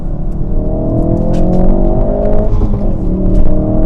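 A 2018 Ford Focus RS MK3 with the 2.3-litre EcoBoost engine and Performance Pack revs and accelerates, giving a loud, steady, rising engine drone that carries through the whole stretch with no talk over it.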